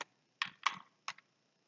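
A few keystrokes on a computer keyboard, used to steer a turtle in a simple Python turtle-module game, come as separate close, crisp taps in a short burst amid silence.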